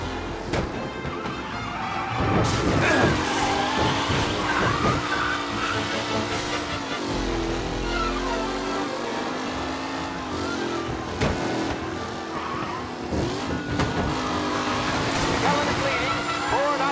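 Race cars roar through a racing video game, engines droning and shifting pitch continuously with tire squeal and skidding over the whole stretch, under a commentator's talk.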